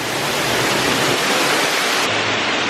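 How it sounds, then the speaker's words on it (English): A giant waterfall at a theme park entrance roars as a steady, dense, loud wash of falling water, continuous and close, with no voices. "This is the giant waterfall that you see when you first walk into the park."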